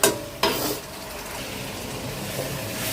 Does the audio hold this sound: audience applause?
no